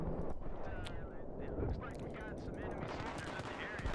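Gunfire from a Battlefield 3 multiplayer match on the Tehran Highway map, a dense, continuous barrage of shots and bursts from several directions that stays steady and loud for the whole stretch with no talking.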